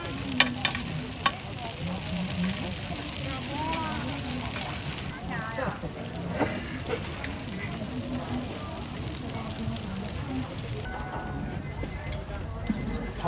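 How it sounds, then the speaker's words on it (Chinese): Fresh corn cakes pan-fry in a pan at a rural Shandong market food stall, giving a constant crackling sizzle with occasional ticks and scrapes, while a vendor and customers talk over it. "外边煎的嘎嘎，中间是嫩的"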